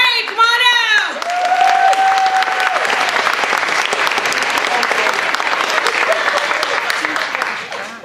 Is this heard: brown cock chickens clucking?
no